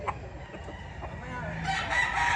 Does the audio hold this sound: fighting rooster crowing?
yes